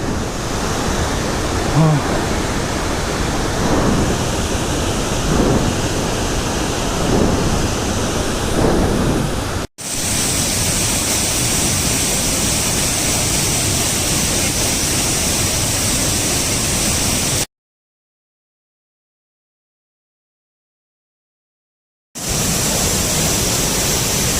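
Mookana Falls near Sakleshpur in the Bisle Ghat area rushes as a loud, steady roar of falling water, broken by cuts and a stretch of silence before it resumes.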